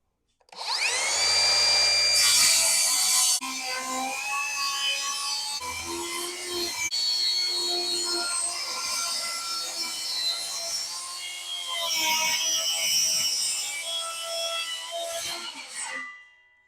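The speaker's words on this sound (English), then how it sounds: "Time to cut the plywood" A saw cuts through a sheet of plywood with continuous rasping strokes, loud and close, rising and easing over the cut until it stops.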